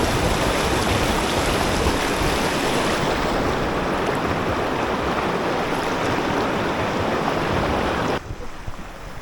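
River water rushes steadily near the microphone with a loud, dense flowing wash, mixed with some wind buffeting, before dropping abruptly near the end.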